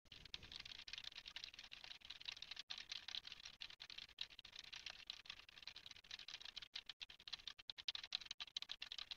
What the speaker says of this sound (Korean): 그렇다면 우선 키보드와 마우스 버튼을 눌러 보겠습니다.